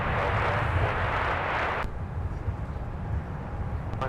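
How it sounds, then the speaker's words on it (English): A Discover Airlines airliner bound for Frankfurt takes off from Minneapolis–Saint Paul airport: a loud, steady jet roar fills the first half, then abruptly drops to a lower, rumbling engine noise that continues to the end. "here's Discover taking off for Frankfurt"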